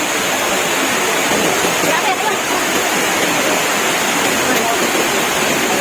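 Hulugan Falls waterfall roaring as a loud, steady broadband rush of falling water, constant and close for the whole stretch with no breaks.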